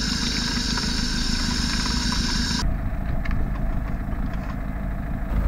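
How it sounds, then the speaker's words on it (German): A diesel engine on an off-road vehicle runs at a steady idle, a loud unbroken rumble with a brighter hiss that drops away partway through while the engine keeps going. "der Motor läuft."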